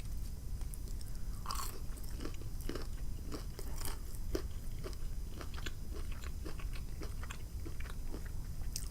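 Close, crisp biting and steady crunchy chewing of a battered ghost pepper chicken wing dipped in sauce, repeated wet crunches throughout with no talking.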